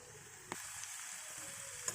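Spinach leaves dipped in batter fry in hot oil as bajji, giving a faint, steady sizzle with a couple of small pops and no voices.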